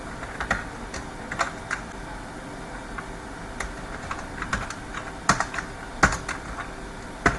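Java code is typed on a computer keyboard, close and moderately quiet, with irregular bursts of key clicks and a few louder taps, no talking.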